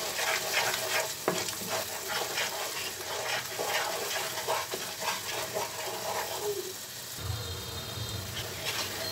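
Chili powder and turmeric masala stir-fried in a pan for a chicken dish, with a steady dense sizzle broken by repeated scraping and clattering stirring strokes throughout.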